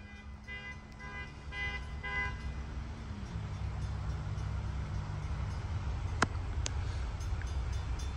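A westbound train rumbles past in Ironton, Ohio, a steady low roar with a horn toot near the start, heard from trackside with no talk.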